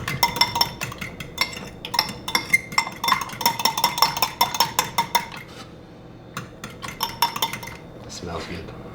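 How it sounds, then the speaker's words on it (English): Eggs being whisked in a bowl for a bodybuilding breakfast: quick, rhythmic metallic clinks of utensil against the bowl, close and bright, pausing briefly before resuming. "Gonna whisk that up a little bit more again."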